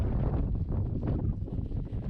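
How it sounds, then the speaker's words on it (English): Strong wind blows during a horse trail ride, buffeting the microphone with a constant loud, low rumble throughout and no voices. "It's pretty windy today."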